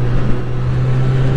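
A 2022 Honda CB1000R Black Edition motorcycle engine drones steadily under an open throttle, a brief, even, close-up hum.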